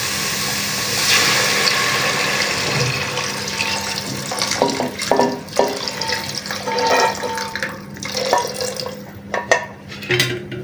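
Water poured into a cooking pot while making beef gravy, with a rushing pour alongside clinks and scrapes of metal cookware, close and moderately loud with no talk.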